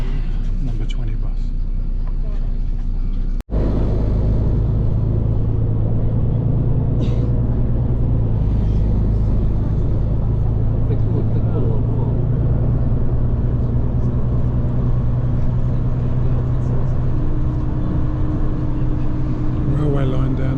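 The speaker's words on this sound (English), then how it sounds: "Number 20 bus." City bus engine idling and rumbling close by in a steady low drone, with a brief cut early on and someone speaking over it.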